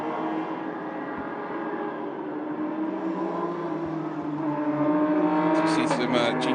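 GT4 and GT Cup race cars circulate on a wet track in the rain during the Shanghai 8 Hours, a continuous engine drone that swells toward the end under a commentator's talk.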